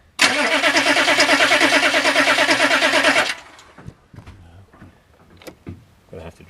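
A starter motor cranks a stubborn Weasel engine on weak batteries, a loud, fast, rhythmic whirring for about three seconds that fails to catch, followed by quiet clicks and shuffling.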